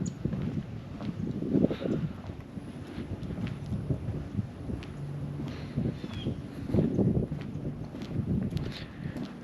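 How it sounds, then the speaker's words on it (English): Wind gusting across open Florida wetlands near Lakeland, a steady low rumble with stronger buffets of the microphone, rising and falling throughout with no talk. "Little windy."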